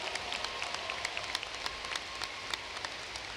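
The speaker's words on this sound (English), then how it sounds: "Can we give another round of applause for our performers" A large audience at a high school commencement ceremony applauds, a steady, soft wash of many hands clapping at some distance, with a few sharper individual claps standing out and no voices over it.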